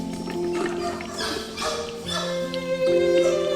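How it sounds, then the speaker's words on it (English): Guide dogs bark and yip in short bursts, mixed with steady musical tones that run underneath throughout. "Some had stopped barking and looked at him now, while others continued their deafening"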